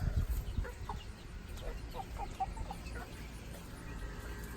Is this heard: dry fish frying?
no